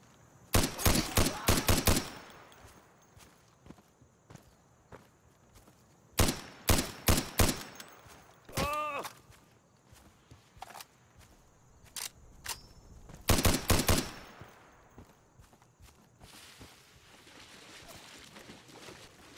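Video game gunfire at a checkpoint: several loud rapid bursts of automatic rounds in separate clusters, with quieter ambient background noise between them.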